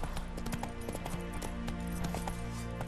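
Steady clip-clop of the horse Roach trotting in The Witcher 3, a quick even hoofbeat rhythm close and loud over a dense game background.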